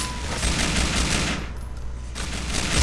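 A submachine gun fires in GTA IV: The Ballad of Gay Tony in a loud, close, continuous rapid burst with a brief pause before firing resumes, and no voices.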